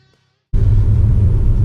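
An Alfa Romeo Stelvio luxury crossover drives along with a low, steady road and engine rumble that starts abruptly after a brief silence.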